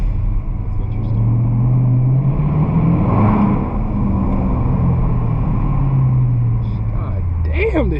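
A 2018 Dodge Charger R/T on 22-inch wheels rumbles as it drives, its V8 note heard from inside the car as a deep, steady drone that swells briefly under light acceleration.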